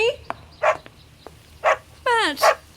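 A dog in a radio drama barks and yips excitedly, a few loud barks spaced out between clicks, ending in a rising whimpering yelp followed by another bark.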